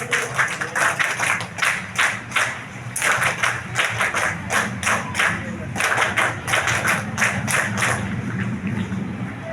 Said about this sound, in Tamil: மாணவிகள் ஆங்கிலேய கரகோஷம் எழுப்புமாறு கேட்டுக் கொள்ளப்படுகிறீர்கள்